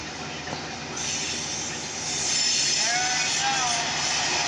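A Norfolk Southern local manifest freight train with many grain hoppers rolls past, a steady loud rumble of cars with rising metallic wheel squeal, while someone talks over it.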